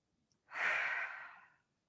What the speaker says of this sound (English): We take a deep breath.